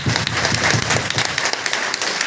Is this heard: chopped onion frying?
no